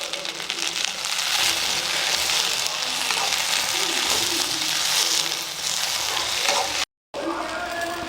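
Okra sautéing in oil for a tamarind kuzhambu, a close continuous sizzle with stirring scrapes, briefly cut to silence near the end before the frying resumes.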